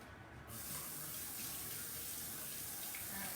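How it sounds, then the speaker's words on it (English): Tap water runs steadily into a kitchen sink to rinse a green pepper, a constant hiss starting abruptly after a brief quiet moment and continuing unbroken. "rinse your green pepper"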